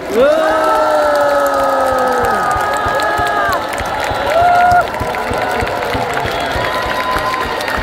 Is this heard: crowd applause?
yes